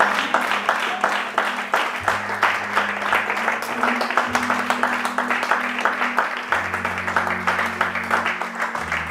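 A church congregation claps steadily and densely for the full stretch, loud and continuous, over sustained low keyboard or organ chords.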